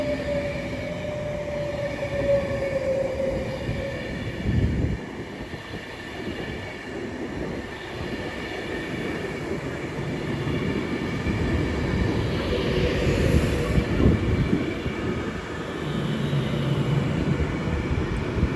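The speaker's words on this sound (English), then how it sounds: "Arriving in now is the 11:31 Avanti West Coast service to Blackpool North, worked by 390 154." An Avanti West Coast Class 390 electric train, the service to Blackpool North, pulls into Watford Junction on the West Coast Main Line, its rumbling roll and motor whine building steadily with shifting tones and faint squeals near the platform.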